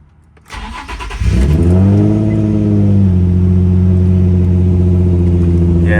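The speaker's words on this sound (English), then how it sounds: "All right, here's a quick cold start." Cold start of a Nissan 350Z Nismo fitted with an Agency Power exhaust: the starter cranks briefly, then the engine catches with a loud flare and settles into a steady, deep, droning idle up close.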